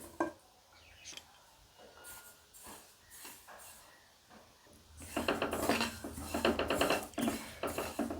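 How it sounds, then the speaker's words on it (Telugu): Sesame seeds roasting in a pan for laddu, heard as scattered light pan scrapes and clinks that build into a busy, louder rattle of tossing seeds and metal contact in the second half. "ఇలా ప్యాన్ తీసుకొని ఈ నువ్వులు వేయించుకుందాం"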